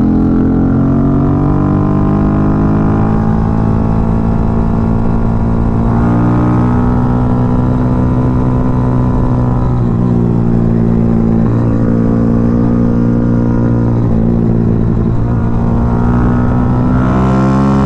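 Yamaha Y15ZR motorcycle with a dry clutch climbing a hill at Bukit Langat, its engine droning loud and steady throughout with shifting revs and brief throttle changes, no talk over it.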